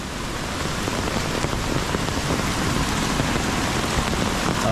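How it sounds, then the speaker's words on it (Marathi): Heavy monsoon downpour in a Konkan village near a flooding Kajali river, a dense, steady roar of rain close by and continuous throughout, with no voices. "धो पाऊस"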